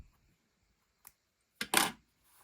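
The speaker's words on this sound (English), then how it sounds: "Now I can go ahead and snip this off." Scissors snip yarn off a small crocheted amigurumi octopus, a faint click followed by a sharper double snip close by, otherwise near silence.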